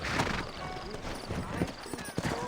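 Horse hooves clip-clop steadily beside a town in Red Dead Redemption, with a cowboy character speaking over the rhythmic hoofbeats.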